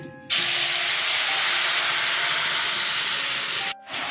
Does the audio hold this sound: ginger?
yes